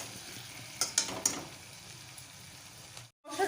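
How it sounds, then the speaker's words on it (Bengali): Raw potatoes and spices sauté in a pan for rohu fish kalia, a soft steady sizzle with a few quick scrapes of stirring near the start and a brief dropout near the end, no talk. "এতে কাঁচা আলু দিয়ে দিলাম কেননা মশলাটা কষা হওয়ার মধ্যে আলুটাও আমার কষা হয়ে যাবে কিছুক্ষণ ধরে একটু কষিয়ে নেবো"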